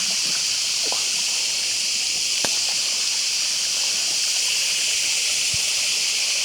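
A cold forest stream flowing out of the woods near Kakkayam dam in Kozhikode, a constant, even hiss of rushing water with a few faint knocks, steady throughout and without talk.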